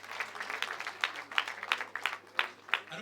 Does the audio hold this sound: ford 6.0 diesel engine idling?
no